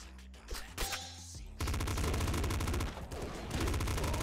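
Rapid, steady automatic fire from a golden pop rifle in Nuclear Throne, preceded by a few scattered shots and game sounds, then a dense rattling stream that briefly dips before resuming.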